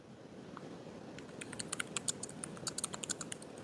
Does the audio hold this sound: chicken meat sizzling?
no